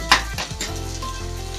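An egg frying in a pan for a hamburger gives a steady close sizzle after a brief clatter at the start, with no voices.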